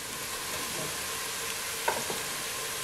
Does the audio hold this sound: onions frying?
yes